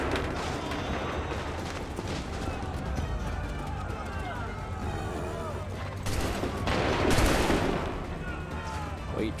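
A musket volley from a firing line rings out at Lexington's Barrett's farm in Assassin's Creed III: continuous battle gunfire and clatter build to a loud, dense crackling burst near the end, with voices talking throughout.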